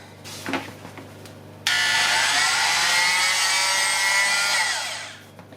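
A Dremel Multi Max MM35 oscillating multi-tool switches on and runs with a loud, steady high-pitched buzz for several seconds, then winds down. Quieter handling noises come before it starts.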